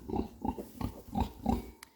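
A sow with piglets in a pen gives low, rhythmic grunts, about six close, soft pulses in steady succession, alone with no talk.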